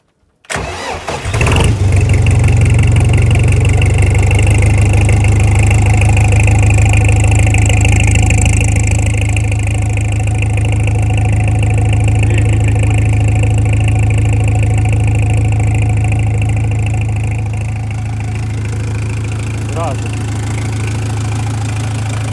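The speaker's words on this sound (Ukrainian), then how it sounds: "А без свічки цікаво, чи заведеться." A cold diesel engine cranks briefly and catches without glow-plug preheating, then settles into a loud, steady low idle with a faint knock, running on alone for about twenty seconds.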